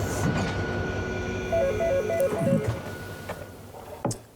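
A train rumbles steadily along the tracks with rhythmic clatter, a faint tonal whine rising and falling midway, and sharp clanks near the end.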